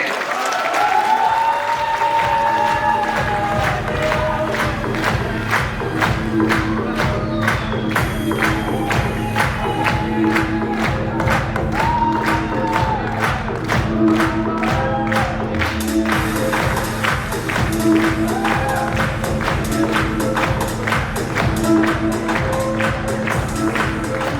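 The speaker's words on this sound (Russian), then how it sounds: "Проводим их за сцену под бурные аплодисменты." A crowd at a 2019 Moscow beauty pageant applauds loudly as the jury leaves the stage, the dense clapping falling into a steady rhythm over music throughout.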